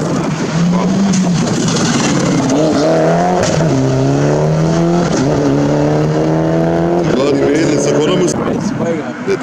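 A rally car at Rallye Kempenich passes close by, its engine climbing through gears in stepped, rising revs and then fading, with spectators chatting throughout.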